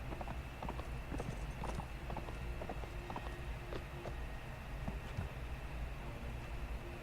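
Horse hooves gallop in the medieval combat game Mount and Blade Warband, a steady, rapid clip-clop that runs close and continuous through the whole stretch with no voices over it.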